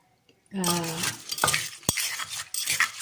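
Thai cucumber salad with fermented fish sauce, pork sausage and crab sticks being pounded and mixed in a mortar, close knocks and scraping stirs, with someone talking over the kitchen sounds.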